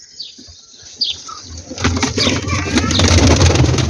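A few soft coos and rustles, then a burst of flapping wings as pigeons take off together. The fluttering is close and grows louder toward the end.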